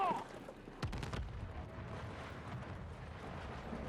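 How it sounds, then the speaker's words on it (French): A Battlefield 6 video game explosion lands as a sharp, heavy blast near the start, followed by a rumbling, crackling aftermath under a low background din. "Voilà, ils ont fait exploser le truc."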